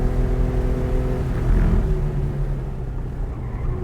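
A modded 1990s car is driven hard on a lap, its engine droning loud and close as a steady, harmonic-rich roar that swells slightly mid-way.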